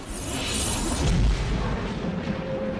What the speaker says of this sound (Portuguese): uma série de poderosas explosões sônicas ou tremores do céu tem balançado o sul da Califórnia